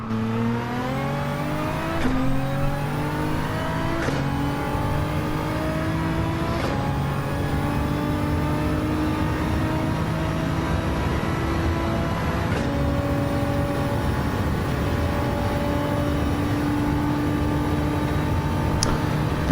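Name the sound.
race cars driving at Bathurst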